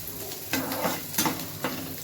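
Food being stirred in a pan over a high flame, a continuous hiss of frying broken by several quick scraping strokes of the spoon at a loose rhythm.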